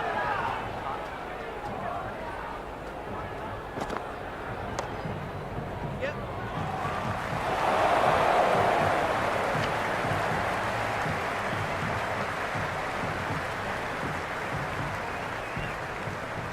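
Stadium crowd noise from a cricket match in Cricket 26, Super Kings versus Royals: a steady, noisy roar of fans at the ground that swells for a few seconds midway, with no talk over it.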